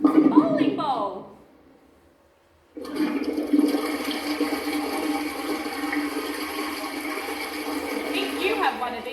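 A household toilet flushes with a loud, steady rushing roar of water that runs for several seconds after a brief pause, preceded by a moment of talking.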